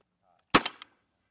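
An M32A1 grenade launcher fires a single sharp, loud shot during Marine practice, followed by a brief echoing tail, with silence before and after.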